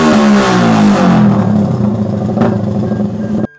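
Motorcycle fitted with a no-limit Juken 5 ECU and an open pipe revs hard close by, a loud, buzzy engine tone that holds, then sags slightly before cutting off abruptly.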